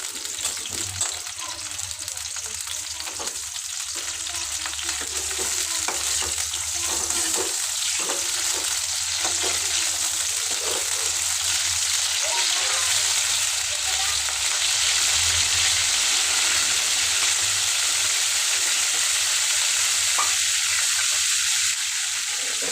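Stuffed ridge gourd fries in hot oil with a loud, steady sizzle and hiss that builds slightly and holds for over twenty seconds, with occasional stirring bumps and no clear talking.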